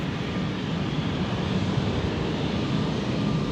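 An SAS Embraer 195 takes off from Schiphol's Polderbaan runway, a loud, dense, continuous jet engine roar with wind noise, steady for the whole stretch and no voices.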